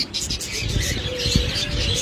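Doves (ghughu) at a bird shop give soft cooing and some chirps over a busy, steady background with faint voices.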